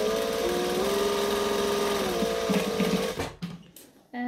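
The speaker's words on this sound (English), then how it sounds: "So I'm just going to stitch the two sides." A sewing machine stitching the two sides of a bag together, a steady close mechanical whir that shifts pitch slightly, then stops with a few clicks and rustles near the end.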